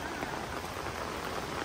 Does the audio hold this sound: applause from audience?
no